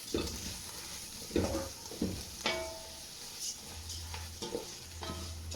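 Rice frying in a pan for Cameroonian fried rice with shrimp and beef, a steady close sizzle broken by repeated scraping strokes of a spoon stirring.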